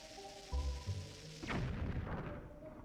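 A bomb blast in the video game The Legend of Zelda: Twilight Princess, a sudden deep boom with a rumbling tail, following a couple of low thuds.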